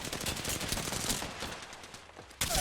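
Rapid bursts of video game gunfire from a shooter, a dense run of overlapping shots with a louder burst near the end, heard alone without talk.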